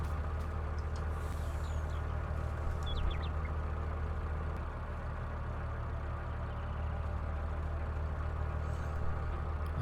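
Farming Simulator 19 truck on the Black Mountain Montana map, engine droning steadily and loudly as it climbs a slope, a constant low rumble with no talk.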